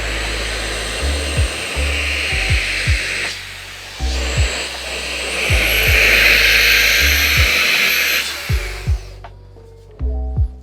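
Xiaomi Mijia portable vacuum cleaner running steadily and loudly as it sucks up dust, its motor whine swelling and dropping as it is switched or moved, with repeated low knocks and bumps against a desk surface near a mouse pad.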